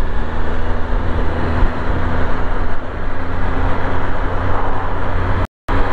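A 2025 Triumph Speed Triple motorcycle accelerating in second gear, its engine and exhaust giving a loud, steady, continuous roar close up, with a brief dropout near the end.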